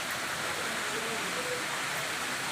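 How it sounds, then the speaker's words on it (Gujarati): Steady hiss of rain falling on an open plot behind a house. It is a soft, even wash of noise throughout, with faint voices underneath. "જોઈ લો જો વરસાદ આવે"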